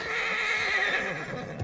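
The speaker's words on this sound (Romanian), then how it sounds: "Calul meu face așa și că nu sunt eu pe el." A horse in the video game Red Dead Redemption whinnies loudly in one sustained neigh lasting over a second, close and clear with no talk over it.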